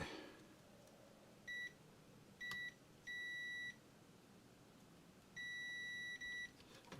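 Electronic beeps from a TEAC A-170S cassette deck being tested during recapping: about five clean tones, some short and some held, separated by quiet pauses over faint room hiss.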